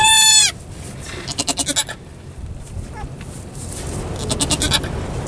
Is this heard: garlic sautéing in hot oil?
no